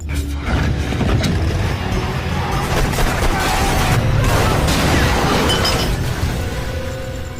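Dense, chaotic bursts of gunfire and crashing impacts fill a loud, continuous action scene, with shattering and booming hits layered throughout.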